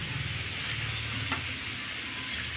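Bean sprouts sautéed in a hot pan give a steady, close sizzle with soft stirring scrapes throughout, no voices.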